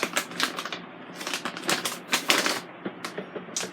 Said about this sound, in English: Cut up the meat.